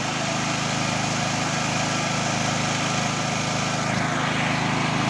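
A Stanley SG 3100 generator engine running at a steady pace, a continuous buzzing drone with a throbbing low hum, close and unchanging throughout, with no talk over it.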